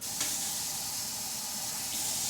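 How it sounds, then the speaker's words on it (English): Tap water runs into a can of chickpeas as it is rinsed, a steady loud rushing hiss from a kitchen faucet filling the whole moment without any talking. "Just add some water to the can and then dump it back out."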